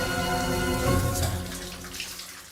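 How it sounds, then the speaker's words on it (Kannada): A shower running steadily in a bathroom, a continuous close hiss of falling water that stays even throughout with a faint tonal hum underneath. "ಇಲ್ಲಿ ಬಂದ್ರೆ ಶವರ್ ಆನ್ ಆಗಿದೆ"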